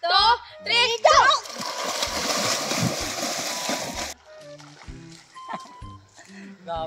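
Children splash into a river at the start of a swimming race, a loud sustained churning of water lasting several seconds, framed by children's voices talking and shouting before and after.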